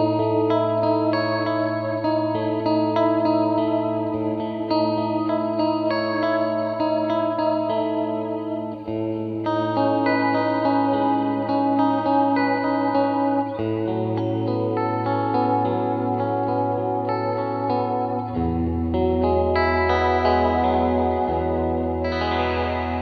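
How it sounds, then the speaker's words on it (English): A TC Electronic Hall of Fame reverb in a modulated setting with tri-chorus on the tail shimmers over sustained instrument chords, with lush, wavering decays washing between changes and no voices. "the reverb tail gets this shimmery kind of effect that sounds really beautiful and lush"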